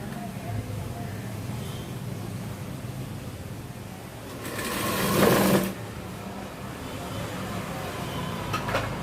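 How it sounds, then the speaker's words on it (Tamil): Sewing machine double-stitching the neckline of a 42-inch jacket in a tailor's shop: a single short run of stitching of about a second rises over a steady low background hum. "டபுள் தையல் வைக்கிறோம்."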